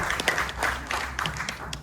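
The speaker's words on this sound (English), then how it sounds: "One round of applause for our dancers." An audience claps and applauds for hula dancers at a Polynesian cultural show in Hawaii, a steady spatter of hand claps lasting a couple of seconds at moderate loudness with crowd noise beneath.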